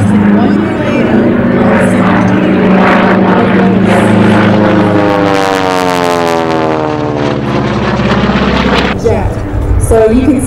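A Gee Bee R2 propeller racing airplane flies past loudly, its engine drone sweeping in pitch as it passes, with someone talking over it.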